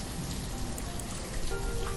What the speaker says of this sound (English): as you saw when it rained